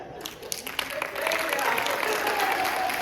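Seminar audience applauding, a dense wash of clapping that builds after a second and stays loud and sustained, with some voices mixed in.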